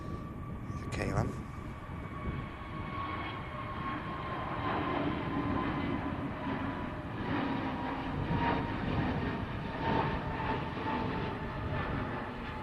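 A KLM airliner at Manchester Airport rumbles with a loud, broad jet roar and a faint sliding whine, steady throughout, with voices talking over it.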